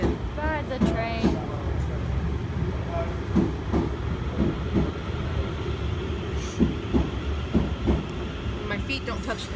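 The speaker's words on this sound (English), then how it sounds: "Very early and riding the train." A steady rumble of a moving train in England with rhythmic clicking and rattling, occasional squeals, and voices murmuring underneath.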